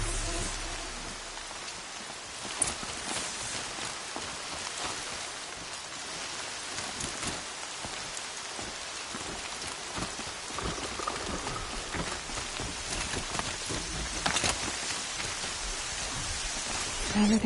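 Rain falls steadily in the video game Horizon Zero Dawn as a constant patter and hiss on surfaces, with scattered louder drops and faint rumbles beneath, no voices heard.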